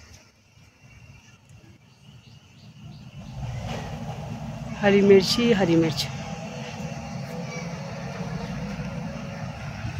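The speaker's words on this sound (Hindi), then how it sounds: "कूड़े की आवाज़ आ रही गाड़ी वाले की।" A garbage truck passes outside a house as a low engine rumble that swells and holds steady in the background while a person talks over it.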